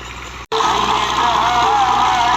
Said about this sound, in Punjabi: ਦੇਖ ਲਓ ਜੀ ਰੂਟਾਵੀਟਰ ਵੱਜਦਾ